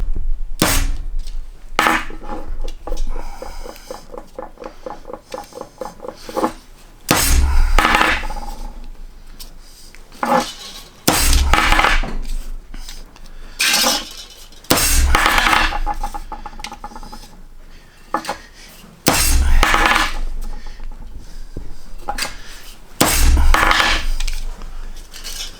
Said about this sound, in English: You hit it with a heavy hammer, and you can see it starting